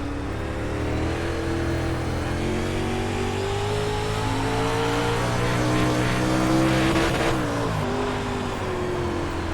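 A race car engine in iRacing, a Pro Late Model or UMP Modified, drones steadily through continuous laps, its loud sustained note rising and falling with throttle and shifting pitch near the end.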